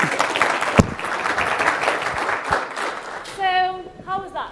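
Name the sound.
audience applause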